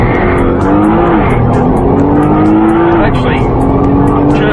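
A Nissan GT-R launches hard under launch control, its engine droning loud and near as revs climb steadily, dip at a gearshift and rise again, with a voice talking over the acceleration.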